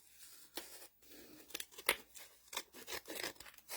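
Scissors snipping through paper pieces for a handmade junk journal, a series of close, crisp cuts in irregular rhythm with light paper rustle between them.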